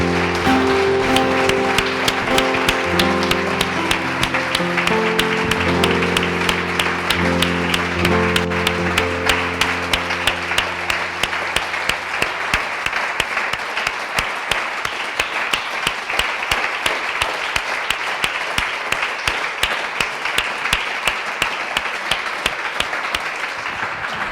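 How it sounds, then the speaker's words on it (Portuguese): A church congregation applauding, with a held musical tone underneath at first, then sustained, even clapping continuing loud and dense for over twenty seconds as the music fades away. "dê uma linda salva de palmas a Ele"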